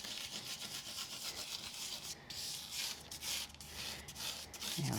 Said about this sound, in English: So we're going to kind of burnish that into place.